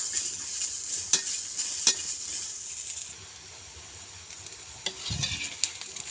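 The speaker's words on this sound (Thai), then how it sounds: "คั่วพริกหอมกระเทียมเพื่อจะทำแจ่วปลาร้านะคะ ใส่ลงไปเลย จะคั่วไปเรื่อยๆนะคะ" Chilies, shallots and garlic dry-roasting and being stirred in a pan over a wood-fired stove: a soft continuous hiss with a few sharp metallic scrapes and clinks, plus a low thump near the end, with no one speaking.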